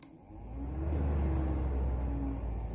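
A radiator fan motor from a 2019 Nissan Qashqai spins up on bench power, a steady close whirring hum that rises in the first second and then holds even, with no talking.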